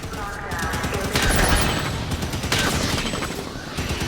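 Dense rapid gunfire from a Halo 5 firefight, continuous bursts and shots layered over game music and effects, loud and sustained throughout.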